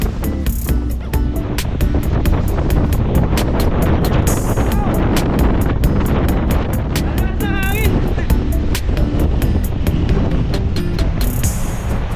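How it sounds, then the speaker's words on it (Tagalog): Strong wind after Typhoon Karding roars continuously and loudly around the microphone in a storm-battered coastal spot, with heavy buffeting and gusty rumble throughout and a few brief noises and a voice mixed in. "Ang lakas ng hangin guys"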